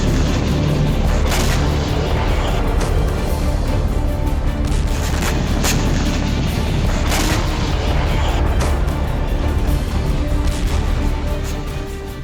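Artillery fire and explosions in the Ukraine war form a constant loud roar, broken by several heavy booms spread throughout, with no voices.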